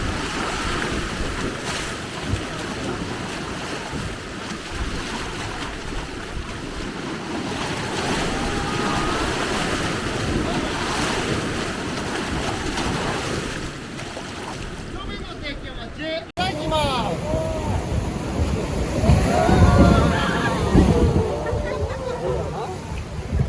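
A sightseeing boat moving along the Hozugawa River in Kyoto, Japan, with steady rushing wash and wind buffeting the microphone, and people talking faintly in the background.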